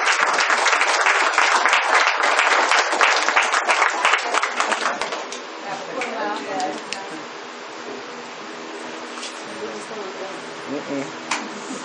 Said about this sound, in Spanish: Un aplauso para Cristina, por favor.